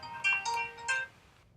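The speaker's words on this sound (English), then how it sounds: "You could probably hear that. It's my phone." A phone's melodic ringtone plays three quick tonal bursts in a short phrase, moderately loud and clear, then stops.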